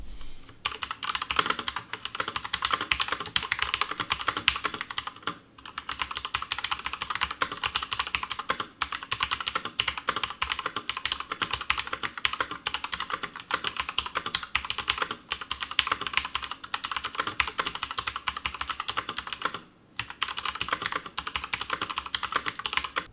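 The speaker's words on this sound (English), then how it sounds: "listen to what those switches sound like" Continuous rapid typing on a Deco Gear mechanical keyboard, crisp close clacks of the switches in a steady stream, with two brief pauses along the way and no voice.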